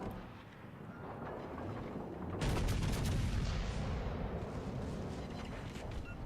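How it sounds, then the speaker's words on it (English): The battleship Georgia fires high-explosive naval shells in World of Warships Legends, a heavy booming roar that swells suddenly partway through and keeps rumbling loudly with sharp cracks layered in. "Georgia started shooting HE"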